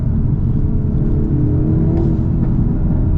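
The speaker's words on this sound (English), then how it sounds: "And it does little pops out the exhaust." A 2025 Hyundai Elantra N accelerates with a loud, close, continuous engine and exhaust roar; any exhaust pops are faint and hard to pick out.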